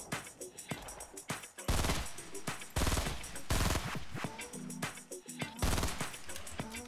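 Rapid bursts of gunfire in a Fortnite solo practice tournament match, loud, dense volleys repeating across the stretch with brief gaps between them, no talking.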